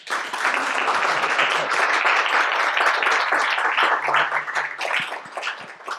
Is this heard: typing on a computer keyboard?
no